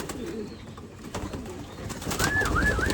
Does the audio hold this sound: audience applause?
no